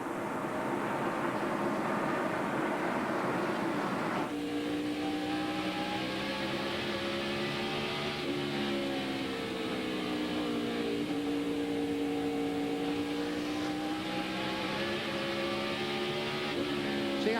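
In-car audio from a NASCAR stock car racing at the 2001 Food City 500 at Bristol: a loud, continuous engine drone with harmonic pitch rising and falling as the driver works the throttle through the corners and short straightaways, with no talk.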